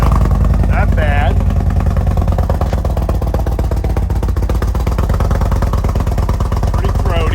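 An Indian Scout Bobber motorcycle with a Shorty muffler idles close by, giving a loud, throaty, even thump that runs the whole time, with someone talking over the engine.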